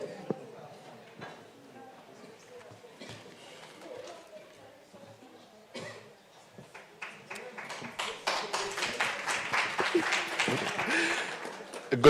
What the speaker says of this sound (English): don't know why you're starting by clapping for me.